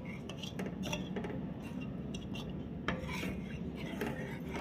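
A spoon stirring garden cress (aliv) seeds in milk in a pot, giving a steady close scraping and light clinking that runs continuously without pause, with no voices.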